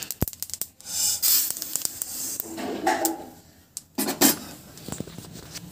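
Roasted sesame seeds being scraped from a pan onto a plate with a metal utensil, giving close rasping scrapes, clinks and a rushing patter of seeds spilling, all in bursts without speech.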